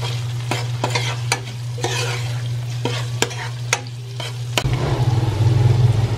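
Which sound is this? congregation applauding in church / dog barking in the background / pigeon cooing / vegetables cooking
vegetables cooking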